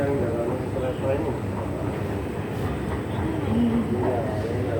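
A passenger train runs along with a steady rumbling, rattling roar of the carriages, heard from inside and continuing throughout while people talk.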